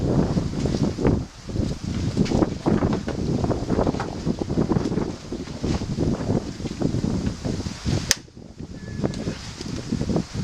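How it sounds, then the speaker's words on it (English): Wind buffets an outdoor microphone at a round house building site in Devon, giving a steady low rumbling roar with gusty surges and brief dips throughout, with no talking. "It's a bit windy today, so there might be a lot of windy noise."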